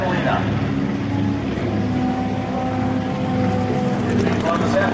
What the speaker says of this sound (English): Radial engines on this PBY, the Catalina.